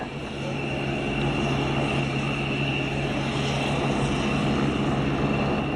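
A Belgian Air Force aircraft lifting to the hover on a runway, its engine and rotor making a loud, steady drone with a sustained tonal hum, close and unbroken from start to end.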